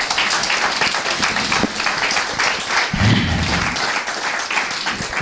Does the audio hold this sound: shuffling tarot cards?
no